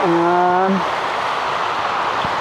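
Heavy typhoon rain pours and drips steadily off a roof over a small farm, a dense even hiss lasting throughout, with a brief tonal, voice-like sound at the very start.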